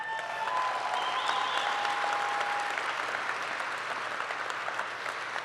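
Steady, dense applause from an audience at a Husky Hall of Fame induction ceremony honoring rowers. The clapping is continuous and even throughout, with no talk over it.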